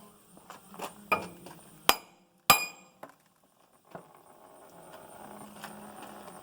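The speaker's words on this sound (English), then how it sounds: "I just tap it with a little hammer." Sharp metallic taps from a small hammer on the rear brake of a 2007 Ford F250 ring out, a handful of irregular clinks, two louder strikes, in a quiet room.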